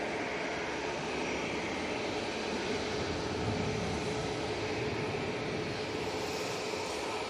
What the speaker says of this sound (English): Right, Ryanair 737 MAX 8. Ready to go.